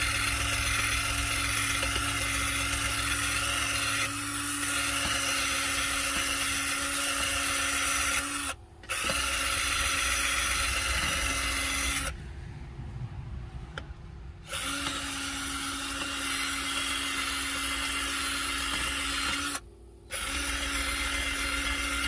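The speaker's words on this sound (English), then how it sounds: "I'm going to be hitting this with this wire wheel" A wire wheel grinds steadily against the metal housing of a generator, a continuous abrasive whir with a constant motor tone, broken by a few short pauses where the tool lifts off.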